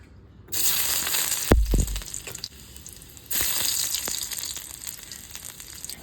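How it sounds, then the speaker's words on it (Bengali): Chopped garlic sizzling in hot oil in a wok, a steady loud crackle that drops briefly, then surges again with a few clunks of handling. "কড়াইয়ে তেল দিয়ে দিয়েছি তেল গরম হতে রসুন কুচি দিয়ে দিলাম ফোড়নে"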